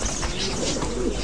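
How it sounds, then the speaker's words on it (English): Tumbler pigeons, a breed so inbred it can no longer fly, give a close, loud, soft cooing that runs continuously through the moment. "These tumbler pigeons have been inbred to such an extent they can no longer fly."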